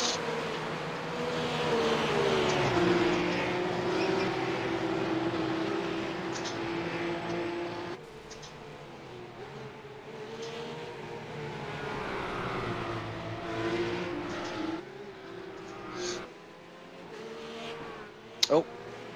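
Race cars lapping the Bathurst circuit in a pack, engines droning and shifting pitch as they pass, loud and sustained, then thinning out with a sharper burst near the end while commentators talk over it.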